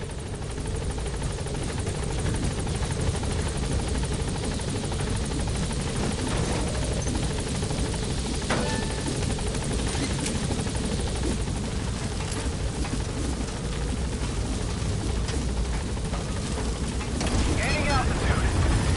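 Helicopter in the video game Metal Gear Solid V: The Phantom Pain, a steady dense rotor and engine roar running throughout at close range and high level.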